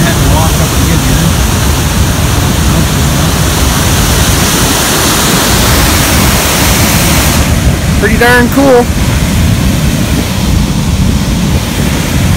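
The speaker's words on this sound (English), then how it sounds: "I like waterfalls." Steady roar of a waterfall at the end of a steep walk up through rocky remote country, loud and continuous throughout, with someone briefly speaking over it near the end.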